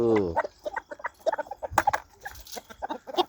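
A fighting cock on a Thai farm clucks and makes short, choppy calls in quick irregular bursts, close by and fairly clear, with a brief higher tonal call at the start.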